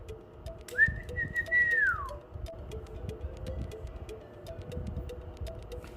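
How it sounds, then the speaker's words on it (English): A pet bird gives one long rising whistle indoors, followed by soft rhythmic ticking and a quieter faint whistle in the background. "There goes my bird."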